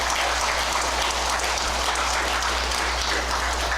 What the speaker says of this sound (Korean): 제 말이 맞다고 하면 박수를 한번 보내주세요.